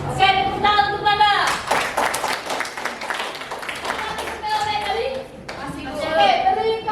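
Eighth-grade classmates clap in a classroom, brisk sustained clapping mixed with children's voices and chatter, with talk breaking in at the start and end.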